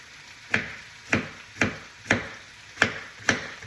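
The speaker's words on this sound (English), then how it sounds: "and then chop it into like little, I call them like little half moons or little moons" A knife chops through vegetables on a cutting board for a sausage skillet, landing seven sharp, evenly spaced thuds close by.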